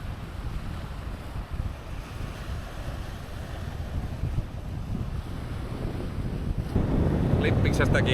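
Wind gusting across the rocky seaside headland at Porkkalanniemi, a rough, buffeting roar on the microphone that swells louder toward the end, with faint wave wash beneath.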